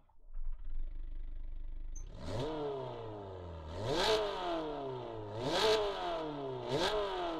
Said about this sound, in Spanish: Vamos a arrancar esta preciosidad de coche y escuchar cómo suena el bicho.